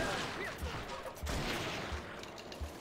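Gunshots in the Red Dead Revolver video game, with several muffled, low thumps spaced roughly half a second apart under a dense, noisy shootout background.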